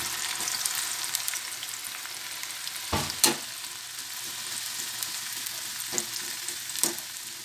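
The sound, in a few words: onions frying in oil for chicken biryani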